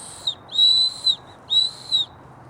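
An aftermarket survival whistle on a lanyard is blown in two long shrill blasts followed by short chirps, loud and close with a steady piercing tone and no talk.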